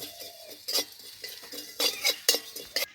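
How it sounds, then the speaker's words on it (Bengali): A utensil stirs and scrapes through cumin, coriander seeds and dry chillies in a pan, giving several quick clinking strokes against the metal over a faint background sizzle. "মহুরি জিরে দিয়ে দিচ্ছি ধনে কয়েকটা শুকনো লঙ্কা একটু নেড়ে নেব"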